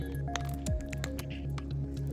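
Dish soap squeezed from a plastic bottle into a base mixture, a brief close wet squish among soft background hum and small clicks.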